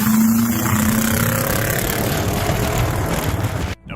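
A 1969 Oldsmobile 442 muscle car's engine rumbles loudly and steadily for several seconds, a deep low throb with a rising tone early on, then cutting off abruptly just before the end.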